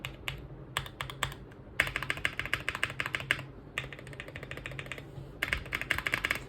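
Fingers type on the modded keys of a Wooting keyboard, quick bursts of crisp clacking broken by short pauses, close and clear, with no talking.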